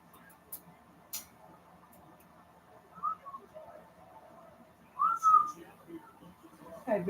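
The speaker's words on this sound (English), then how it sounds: "I was whistling at my dog." Someone whistles to call a dog in a quiet kitchen, with a few short rising whistle notes separated by pauses, fairly faint and close, along with small ticking clicks and no speech.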